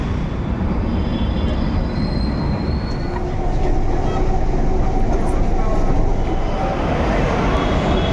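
Close, loud, continuous rumble from a Bangalore metro train in motion, with wheel squeal and rattling carriage noise throughout and no clear talk.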